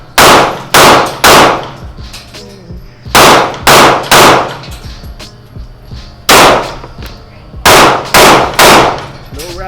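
Loud close firearm shots in quick bursts of two to three, separated by short pauses and echoing tails, repeating several times with a sharp percussive crack each.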